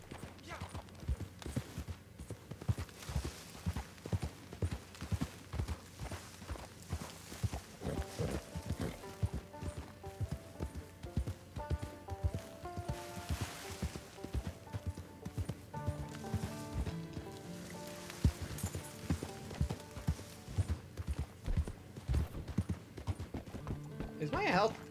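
Horse hooves clip-clopping in Red Dead Online, a steady rhythmic trot of hoofbeats running throughout, with a neigh and a player talking over the gallop.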